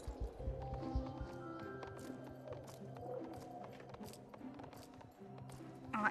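Horse hoofbeats from a rider's mount in the online horse-riding game Star Stable, a steady run of soft clip-clop steps under dense game music and ambience, faint and continuous throughout.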